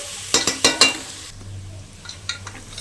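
Ginger garlic paste sautés in a pan for mushroom biryani. A spoon clinks and stirs in a few quick scrapes, and then a soft, steady sizzle carries on close by.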